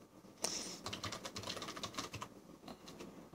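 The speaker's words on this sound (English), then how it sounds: "I know you can hear those keys on my keyboard." Quick, uneven keystrokes clacking on a computer keyboard, close and fairly quiet, a steady burst of typing without any voices.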